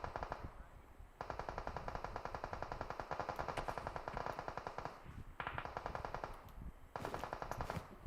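Rapid automatic gunfire in the mobile battle-royale game PUBG Mobile, loud sustained bursts of shots with short pauses between volleys, no talking.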